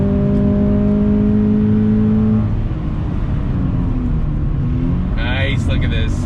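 A Toyota 86 Hakone Edition engine hums steadily from inside the car, its tone holding at an even pitch before shifting near the end, with a person talking over it.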